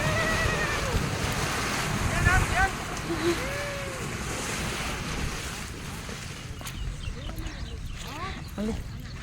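Water surging and splashing in a steady wash as elephants bathe in a river, with wind buffeting the microphone and voices talking throughout.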